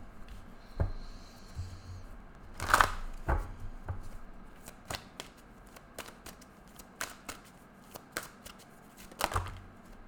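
Tarot cards are shuffled in a quiet room with a run of soft riffling and sharp slaps, irregular bursts spread across the clip, close and fairly faint.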